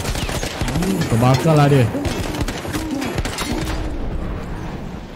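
Gunfire in Battlefield 1 crackles in rapid bursts beneath Malay voices talking over it, dense and fairly loud, with scattered sharp reports throughout.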